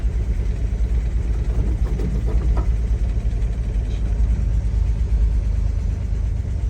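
A 1961 Chevrolet Corvair 95 Rampside's engine idles steadily and close, a continuous low rumble with slight rhythmic unevenness and no talking.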